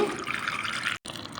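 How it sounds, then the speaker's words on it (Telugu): Water pours steadily into a pan while cooking momos with dried red chillies, a bright continuous splashing that runs on, breaks off for an instant, then resumes. "దీంట్లో నీళ్ళు పోసుకోవాలి"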